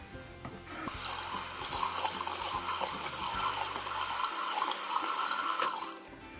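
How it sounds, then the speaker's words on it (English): Tap water runs steadily into a bathroom sink as a face is rinsed clean after scrubbing, a broad splashing wash that lasts several seconds close by, then tapers off at the end. "then we rinse."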